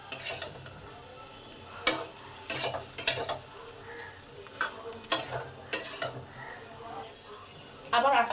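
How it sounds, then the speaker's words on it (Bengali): A spatula scrapes and knocks against a pan while ridge gourd and pumpkin are stirred together for Bengali labra, in sharp intermittent clacks over a low, soft simmer. "এবার এগুলো খুব ভালো করে মিশিয়ে দেব।"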